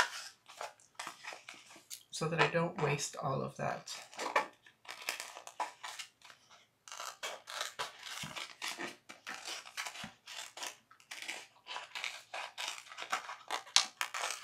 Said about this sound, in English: I'm just going to take a pair of scissors and cut away in the middle